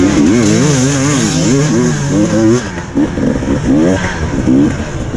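A dirt bike engine roars close by during an enduro race in the woods at Hawkstone Park, its pitch rising and falling as it revs hard, loud and continuous with clattering underneath.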